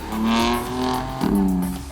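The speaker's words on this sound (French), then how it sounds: "le fait de rouler cheveux au vent permet de mieux profiter de l'échappement sport très travaillé" A 2014 BMW M4 Cabriolet (F33) six-cylinder with sport exhaust roars close by, revving with a rising note and a brief crackle midway, heard top-down in the open air.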